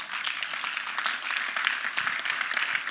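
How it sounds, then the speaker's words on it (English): An audience claps steadily at a live evening session of a traders' bootcamp, a dense and even patter of many hands that holds throughout, moderately loud and with no voices over it. "Put your hands together for Okta."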